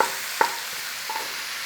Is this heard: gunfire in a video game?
no